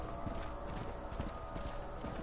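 Horses in the Red Dead Redemption video game keep up a steady run of hoof clip-clops over a dense, loud background, with faint neighing mixed in. There is no talk.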